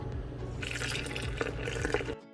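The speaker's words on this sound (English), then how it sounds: "We're going to pour in our yeast." Activated yeast mixture is poured into a well of butter-coated gluten-free flour, a close, continuous liquid trickle and gurgle with small splashy blips that runs for about two seconds before stopping abruptly.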